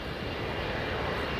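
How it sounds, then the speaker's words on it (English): An Avianca Airbus A320 powers up on its takeoff roll at LAX, a loud, steady, broadband engine roar that fills the whole short moment. "Up next is a Avianca, powering up on the takeoff roll."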